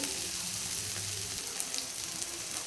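Spice paste for Bengali chingri machh bhuna, a prawn curry, sizzling steadily in a pan, a close and continuous crackling fry with no talk.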